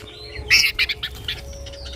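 A young bird gives a quick run of high, squeaky chirps, close by, followed by a few softer calls over faint background hum.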